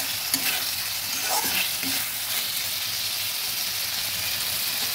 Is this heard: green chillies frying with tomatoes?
yes